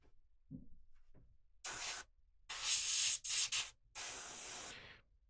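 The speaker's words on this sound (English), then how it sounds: "run air through the airbrush to help dry" Compressed air runs through an airbrush to dry it after cleaning, in several short bursts of sharp hiss, each a second or so long, separated by brief silences, close and fairly loud.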